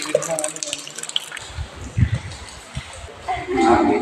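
Water trickling and splashing inside an underground river cave at Puerto Princesa Subterranean River National Park, faint drips and flowing water heard close by under excited voices, with a louder wash of water toward the end.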